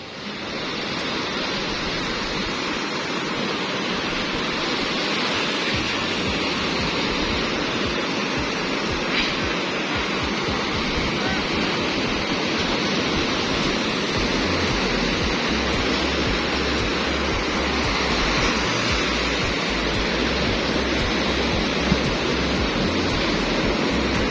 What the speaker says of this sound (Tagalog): May alon, lalaki ng alon.